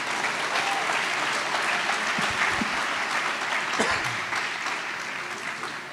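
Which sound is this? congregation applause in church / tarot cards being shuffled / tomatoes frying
congregation applause in church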